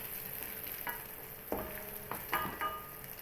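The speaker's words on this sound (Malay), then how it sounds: "Ayam goreng kicap." Chicken sizzles in soy sauce in a pan, a soft, steady fry broken by a few sharp clinks and stirring bursts, with no talking.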